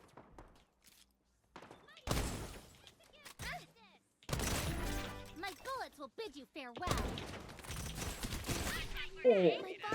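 Bursts of rapid gunfire and thuds from action in the game Strinova come in several loud clusters, with someone talking over them between volleys.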